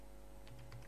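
Several quick, soft keystrokes on a computer keyboard are picked up faintly in under a second against a quiet room hum.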